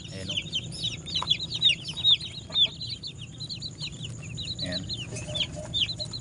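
Flock of broiler chickens, a new batch of about a hundred, peeping and clucking continuously in many overlapping high calls over a low background rumble, with a voice speaking briefly.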